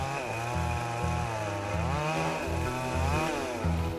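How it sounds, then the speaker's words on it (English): A chainsaw run by illegal loggers felling cedar roars close and loud, its engine pitch rising and dipping as it revs and cuts continuously, with no talk. "Some illegal loggers have just felled a cedar. Chainsaw gangs like this wreak trails of devastation."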